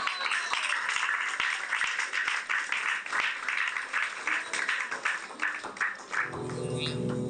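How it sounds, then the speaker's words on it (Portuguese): Steady applause fills a theatre-style event, sustained clapping with sharp individual claps throughout, continuing until a musical tone enters near the end. "Fuerte aplauso."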